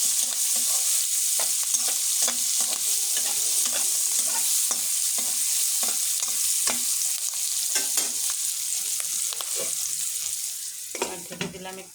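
Chopped onions and green chilies frying in a pan, a steady loud sizzle with repeated stirring scrapes throughout, easing off near the end.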